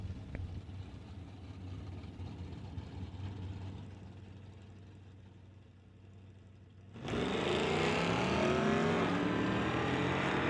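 Drag racing at an NHRA Summit ET event, a Plymouth against a Monte Carlo: a low engine idle and rumble, then a sudden loud roar of launching race engines filling the last few seconds.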